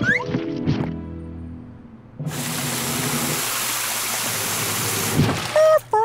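Cartoon rain bursts in suddenly after a short tonal passage, a loud, steady wash of hissing water that holds for several seconds before brief squeaky effects cut in at the end.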